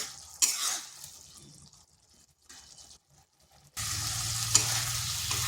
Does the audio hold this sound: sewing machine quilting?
no